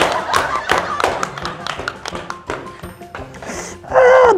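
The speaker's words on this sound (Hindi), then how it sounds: "ताली बजाओ मेरे लिए" A run of sharp hand claps rings out at a fairly even pace for a few seconds, then gives way to a voice.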